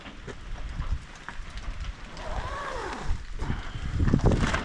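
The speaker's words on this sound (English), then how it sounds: "it's still raining" Steady rain falls outdoors in a continuous broadband hiss with scattered heavier patters and drips, fairly close and even, with no talking.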